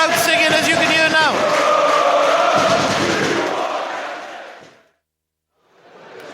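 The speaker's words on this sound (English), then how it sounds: "get the crowd singing as you can hear now" A football crowd sings in a stadium during a County versus Colchester match in 2022, a loud, dense mass of voices chanting together that fades to silence before more crowd noise swells back in.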